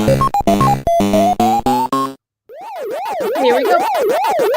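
Pac-Man Online arcade game audio: a quick bright electronic start-up jingle of stepped beeping notes, a short pause, then a steady warbling siren-like tone that rises and falls in a fast regular cycle, loud and clear with no talk.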